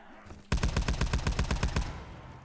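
Rapid automatic gunfire from the Titan gun in a DOORS challenge video game bursts out loud and close, a steady rattle of about a dozen shots over two seconds.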